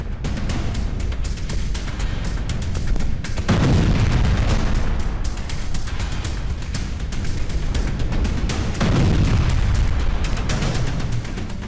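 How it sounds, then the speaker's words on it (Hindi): Heavy bombing of houses in Ukraine during the Russia–Ukraine war, with repeated loud booms and rumbling blasts, the strongest around 3.5 s and 9 s, over continuous crackling battlefield noise. "आसमान से इन घरों पर भीषण बमबारी हो रही है।"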